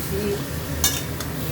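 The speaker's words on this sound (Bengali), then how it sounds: "মাংসটাকে ভালো করে নেড়ে নিচ্ছি।" A utensil stirs chicken pieces for lemon chicken in a pan, giving a low steady sizzle with a couple of sharp scraping clicks against the metal, close up and without talk.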